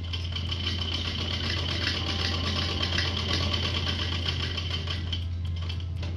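Electric sewing machine stitching suit fabric, a steady humming motor with a fast even needle chatter, close and constant with no speech.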